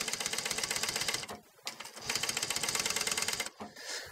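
Sewing machine stitching a seam through velvet upholstery fabric for a custom bench seat cushion, a loud steady rapid rattle in two long runs broken by a short pause, close up and without talk.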